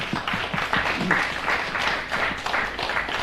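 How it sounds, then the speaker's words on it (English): Audience applause at a medical cannabis summit: a room full of people clapping steadily at moderate volume, a dense patter of hand claps that holds throughout without any voices over it. "So a round of applause for them."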